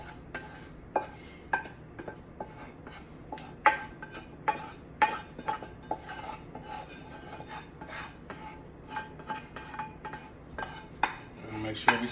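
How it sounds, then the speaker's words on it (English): Turkey chili meat being dumped and scraped into a pot of beans, with repeated metal-on-pot scrapes, clinks and rubbing strokes in an irregular rhythm, close and without speech. "So we have our meat and we're simply going to dump all of this into our pot"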